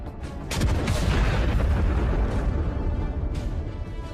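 Ammunition inside a burning T-72 tank cooking off after mine strikes, heard as a loud, sustained roar of rumbling blasts and crackling detonations filling the whole clip.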